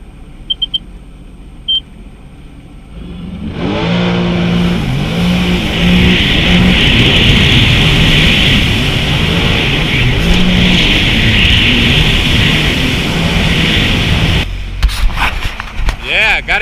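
Sea-Doo personal watercraft engine revving hard as it rides over waves on open water, a loud sustained roar with pitch swells, starting abruptly after a few faint beeps and cutting off near the end.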